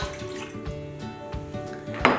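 A metal pot clinks and scrapes nearby in a few light knocks, ending with a louder clatter and a splash of liquid.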